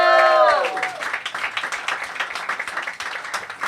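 A comedy club audience claps and applauds steadily after a host's shout-out, the dense patter continuing throughout, with a brief voice or tone at the start.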